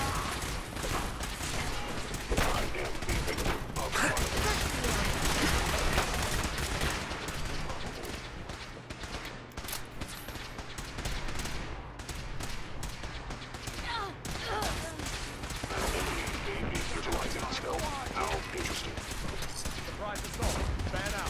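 Dense video game gunfire rattles almost continuously, bursts of automatic weapons and heavy shots layered into a loud, chaotic firefight with faint combat voices mixed in.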